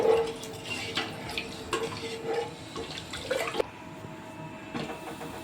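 A spoon stirs pepper rasam in a metal pot, giving soft scraping and sloshing swirls that carry on steadily for several seconds and then fade to a quieter bubbling hum, with no talking.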